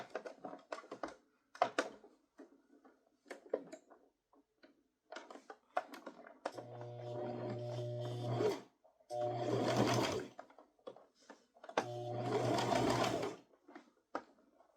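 A sewing machine stitches a toddler crossbody purse in three sustained runs of steady motor hum, broken by short pauses and earlier scattered clicks and handling taps of fabric and machine parts.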